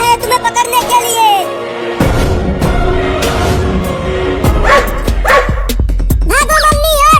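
A dog barks in a short burst of sharp yaps partway through a children's cartoon scene with a cat and a mother, mixed with voices and music throughout.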